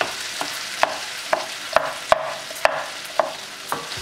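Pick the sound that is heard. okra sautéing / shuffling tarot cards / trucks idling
okra sautéing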